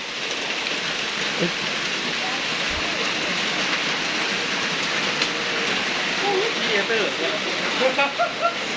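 Heavy rain pours steadily on a mountaintop, a dense continuous hiss of downpour with occasional louder drops and splashes close by, and a voice talks over it.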